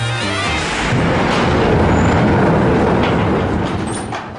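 A loud, steady rumble of the Space Mountain roller coaster train at Disneyland Paris rolling along its track, with a broad rushing roar that swells and holds throughout, no voices.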